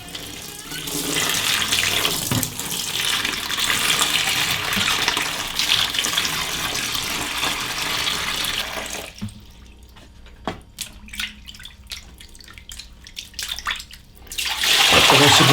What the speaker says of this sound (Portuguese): Eu vou eliminar esta água, tornar a encher